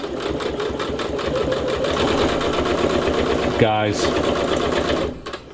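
A Singer C430 Professional sewing machine with a heavy-duty needle stitches through six layers of fabric, a loud, fast, steady mechanical whirring that runs continuously before stopping abruptly near the end, with a brief spoken word at the start.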